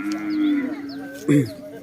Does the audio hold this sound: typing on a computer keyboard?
no